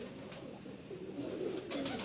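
Pigeons kept by a fancier coo in low, rolling murmurs that run steadily through the whole stretch, fairly close and moderately loud, with no voices over them.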